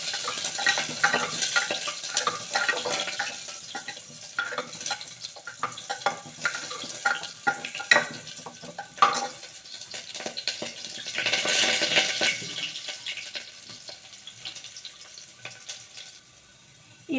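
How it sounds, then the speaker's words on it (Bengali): Potatoes fry lightly in a pan with a continuous crackling sizzle, punctuated by frequent stirring and scraping that swells and fades. "তো আমি আলুগুলো হালকা করে একটু ভেজে নেব।"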